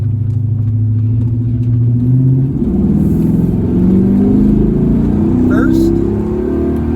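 A 1970 El Camino fitted with a Gear Vendors overdrive and paddle shifters pulls onto a freeway in first gear. Its loud, low engine drone climbs steadily under acceleration, and someone talks over it from inside the car.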